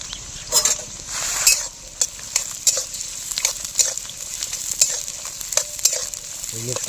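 Carrots and beans stir-fried for fried rice in a pan, with a continuous sizzle broken by repeated sharp scraping and clattering strokes of a spatula at an uneven rhythm, close and fairly loud.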